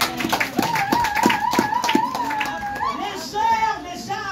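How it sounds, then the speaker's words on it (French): A church congregation claps in rhythm, steady handclaps under a loud voice and singing-like speech with crowd chatter, lively and close throughout. "Acclamez le Seigneur"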